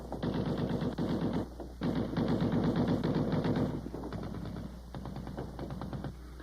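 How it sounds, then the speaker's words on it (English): Bursts of rapid automatic fire from a .50 caliber machine gun, sustained volleys with a brief gap between them, loud and close with no voices. "One weapon we get to know very well was the 50 caliber machine gun."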